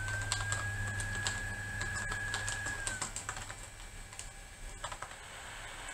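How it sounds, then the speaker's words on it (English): Keys clatter on a 1997 laptop keyboard in a steady, close burst of typing over a low electrical hum, with a thin whine fading out partway through. "I'm going to type that, though."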